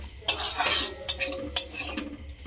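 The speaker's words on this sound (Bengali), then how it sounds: "মশলাটার সঙ্গে চিকেনে খুব ভালো করে মিশিয়ে দিলাম" Chicken being mixed with masala in a bowl, brief metallic scrapes and clinks of a spoon against the bowl in a few quick strokes, close and fairly loud with a low hum behind.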